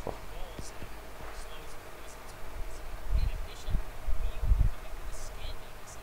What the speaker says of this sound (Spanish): la super tira un montón de abejas y le dan, lo ralentiza encima